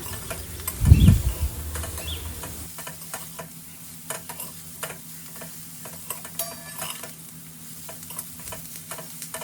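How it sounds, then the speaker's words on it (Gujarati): Cabbage sautés over a low gas flame, giving a soft, steady sizzle with scattered light crackles and stirring clicks. A louder thump of handling comes near the start, and no one speaks. "ધીમા ગેસની ફ્લેમ પર જ કોબીને સાંતળવાની છે"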